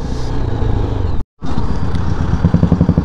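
Dense engine noise from a large group of motorcycles riding through bazaar traffic in Ooty roars loudly and steadily, breaking off briefly before resuming with throbbing pulses.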